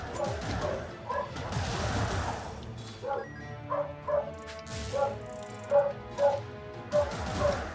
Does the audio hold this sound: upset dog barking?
yes